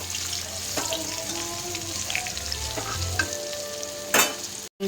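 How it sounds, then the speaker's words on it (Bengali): Cut potatoes fry in hot oil for a hilsa fish curry, giving a steady close sizzle with soft stirring sounds and a brief clatter near the end. "আলুটা আমি আগে একটু ভালো করে ভেজে নেব।"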